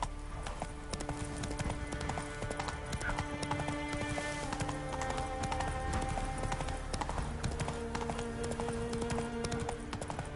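Horse galloping in The Witcher video game, a fast continuous clip-clop of hooves with an occasional whinny, steady and prominent throughout, mixed with game ambience.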